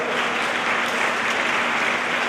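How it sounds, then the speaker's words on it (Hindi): Schoolchildren at a Yoga Day award ceremony in Karnal applaud in a dense, continuous wash of clapping, loud and steady throughout with no speech over it. "तालियां बजाते रहे बच्चों"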